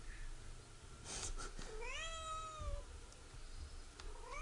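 A cat in the Guild Wars 2 game world gives a single drawn-out, rising then falling meow, clear and fairly close over a steady ambient game background.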